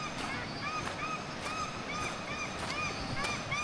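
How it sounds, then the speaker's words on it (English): Paradise ducks honk outdoors during a heavy rainstorm, giving about six evenly spaced, moderately distant calls over a steady hiss of rain. "Those are paradise ducks. Very noisy."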